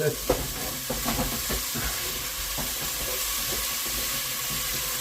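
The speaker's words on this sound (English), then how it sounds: "Now brown this off first" Beef browns in oil in a pan for Hungarian goulash: a loud continuous sizzle and hiss, with a few utensil knocks and scrapes at the start, then steady frying alone.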